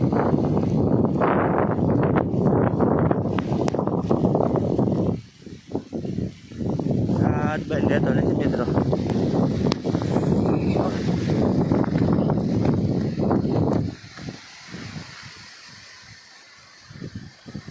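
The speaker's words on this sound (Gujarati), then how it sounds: "ઝાપટા આવે છે પવન આવે વયું જાય એવું થાય છે" Strong, gusty wind with rain showers over a cotton field buffets loudly, dropping briefly and then surging again, before easing into quieter, fainter gusts near the end.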